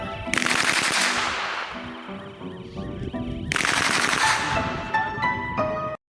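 A full-auto gun mounted on a robot dog fires two long, loud, rapid bursts of gunfire, separated by a brief lull, then cuts off abruptly.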